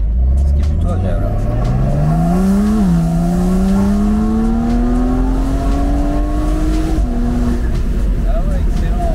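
Porsche 992 Carrera 4 with a stage 2 tune accelerating hard, engine pitch climbing steadily through the revs with a brief shift dip and another near the end, loud and smooth from inside the cabin.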